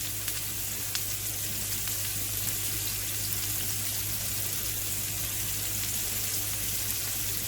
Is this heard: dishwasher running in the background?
yes